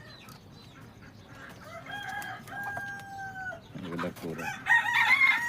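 Chickens cluck and a rooster crows among poultry and Chinese ducks for sale at a market, with a sustained crow in the middle and louder clucking toward the end, alongside brief speech.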